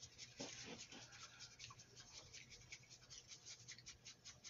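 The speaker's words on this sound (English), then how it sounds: "And then we'll whisk it," A bamboo whisk froths matcha green tea in a bowl, a rapid, faint scratchy swishing that runs continuously and close by, with quick brushing strokes.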